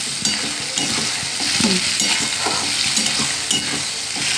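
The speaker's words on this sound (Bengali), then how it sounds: "এবার এটাকে নাড়িয়ে যেতে হবে এই জলটাকে মারবার জন্য" Palak paneer, spinach with paneer, stirred in a hot pan over high heat to cook off its water, giving a continuous close sizzle broken by repeated scraping strokes of the spoon.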